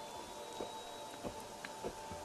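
Steady rainfall in Assassin's Creed Unity hisses softly and evenly, with scattered drop taps and faint low rumbles beneath a quiet, constant wash.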